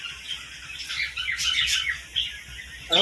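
Male Kalpetia pigeons at a pigeon sale give short chirps and squawks, close and fairly faint, over a steady hiss of background noise. The calls come scattered through the moment, with a louder burst right at the end.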